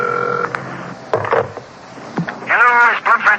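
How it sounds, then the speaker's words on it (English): A telephone's ringing tone in an old-time radio drama sounds briefly at the start, followed by some clicks and handling noise, then a voice comes in near the end. "Telephone ringing there now."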